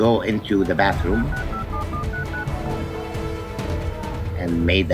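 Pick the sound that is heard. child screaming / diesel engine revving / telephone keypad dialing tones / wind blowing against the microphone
telephone keypad dialing tones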